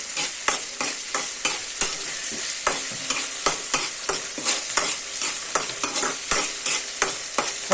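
Potato and drumstick curry frying in a pan while being stirred, with steady sizzling and repeated scraping, clinking strokes of the spoon close up, no voices.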